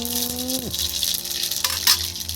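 Mustard seeds hit hot mustard oil for an aloo chatpata potato dish, giving a steady close frying sizzle with a brief louder crackling burst near the end; low tonal hum sits underneath.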